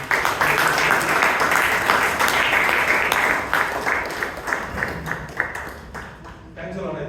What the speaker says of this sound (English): let us give one more big round of applause.